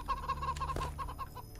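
Chickens in the video game Witch Hunt cluck in quick, close, repeated bursts over a low steady hum.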